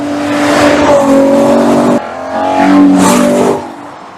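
A Ferrari Purosangue's naturally aspirated 6.5-litre V12 revs hard nearby in two loud bursts, climbing in pitch, with a brief cut between them and a sharp final blip.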